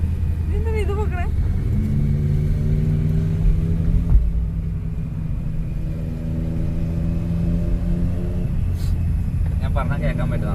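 A superbike and a Mahindra electric vehicle drive along, engine rumble rising and falling under steady close talk, with brief honks and a shouted voice near the start and end.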